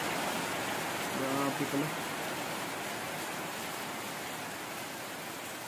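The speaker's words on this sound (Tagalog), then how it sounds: "Abutan kami ng ulan." Steady rain falls at a highland resort in Marilog, a constant broadband hiss filling the whole stretch while someone speaks briefly near the start.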